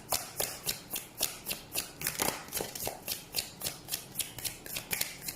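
Tarot cards are shuffled by hand in a quick, even rhythm of soft riffling flaps, about three per second. The shuffling is close and moderately quiet, with no talking.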